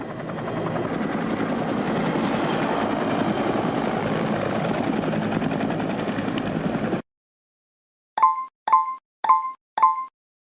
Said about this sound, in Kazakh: Бұл тік ұшақ.